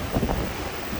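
Strong wind buffets a cruise ship deck on a choppy sea, a dense, roaring gust of wind noise pressing against the microphone throughout the brief moment.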